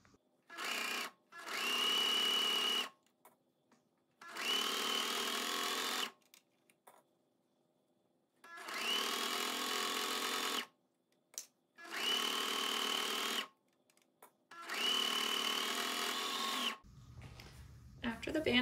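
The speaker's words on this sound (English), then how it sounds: "I'm going to go sew this on, stretching the band as I go and using my half inch seam allowance." A sewing machine stitches a stretched band onto a V-neck cardigan with a half-inch seam allowance, running in five steady bursts of about one to two seconds each with short pauses between, loud and close, with no talk.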